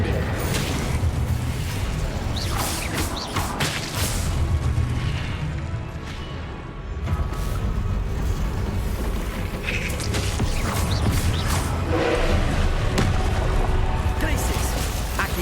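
Spell blasts from Confringo and Incendio in the Hogwarts Legacy video game: loud, repeated booming explosions and crackling bursts over a dense, continuous game soundscape, with a brief dip in volume midway.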